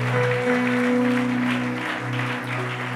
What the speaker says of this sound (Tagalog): Sige po, the best na palakpak sa Panginoon.